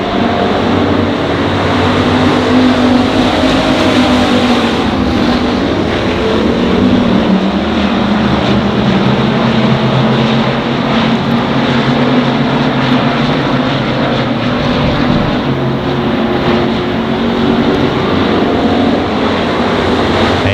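Race cars circling Monarch Motor Speedway, a dense, steady engine roar that never lets up, with several cars blending into one continuous drone and no clear pass-by peaks.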